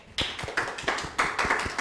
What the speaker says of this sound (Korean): 환영의 박수 한번 부탁드릴게요